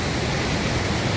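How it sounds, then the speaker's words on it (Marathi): Steady broadband rush of a waterfall up ahead at a hidden spot in the Konkan, loud and continuous with no voices. "समोर धबधबा"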